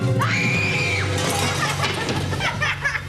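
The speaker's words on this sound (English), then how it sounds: "great job on that scream" A young actor lets out a loud, sustained scream during a spooky campfire-story scene set in the woods, the shriek rising and holding for about a second before giving way to excited voices and commotion.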